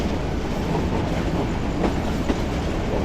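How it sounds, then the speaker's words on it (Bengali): Aboard the Mymensingh Express pulling into Sitakunda station, a dense, even rumble of rolling carriages fills the space with a couple of faint knocks and no voices. "অবশেষে আমাদের ট্রেন এসে থামলো সীতাকুণ্ড রেলওয়ে স্টেশনে"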